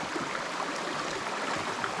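Steady broadband rush of a stream at Chet Khot waterfall in Saraburi, Thailand, continuous and even with no pauses, fairly close and moderately loud, with no voices.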